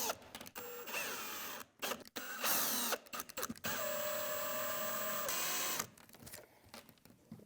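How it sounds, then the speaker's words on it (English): Power screwdriver driving screws into a wall box while wiring an in-wall TV setup, several whirring bursts of a few seconds each with short gaps, close and fairly quiet, no talking. "I'm going to screw each one of these in now."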